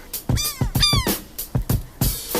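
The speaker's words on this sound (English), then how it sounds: "these seagulls just flutter around with no problem whatsoever" Seagulls flying near the camera in England let out a burst of loud, harsh, close calls, several cries rising and falling in quick succession over wind noise.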